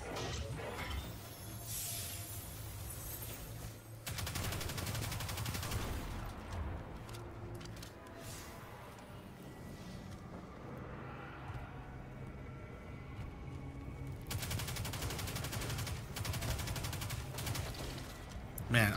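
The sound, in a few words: gunfire from player shooting in video game Destiny 2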